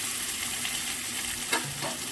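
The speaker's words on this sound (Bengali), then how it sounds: "এবার মশলাটা একটু কষে নিই।" Ginger, cumin and coriander paste sizzles steadily in hot oil in a home kitchen, a continuous close hiss broken by a brief scrape of stirring.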